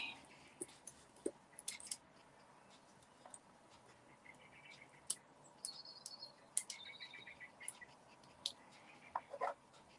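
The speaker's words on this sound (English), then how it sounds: "I can hear the birds singing." Scattered bird chirps and short trills outdoors, fairly faint and intermittent over a quiet background.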